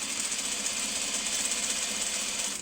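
A sewing machine stitches a quilt top seam while joining quilt sections, running in a steady, fast, even whir with a rapid mechanical pulse throughout and no talk.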